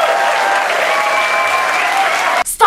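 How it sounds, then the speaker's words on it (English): Loud, dense applause from a crowd, steady clapping that cuts off sharply at the end. "Stop applauding. I don't need it."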